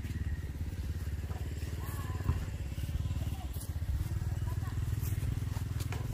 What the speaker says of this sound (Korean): 뭐 오토바이가 들어오네.